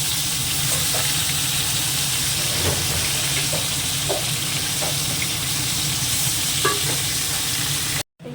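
Fish, washed and rubbed with salt and turmeric, frying in hot oil in a home kitchen, a steady loud sizzle with crackling pops that runs unbroken for about eight seconds, then cuts off abruptly.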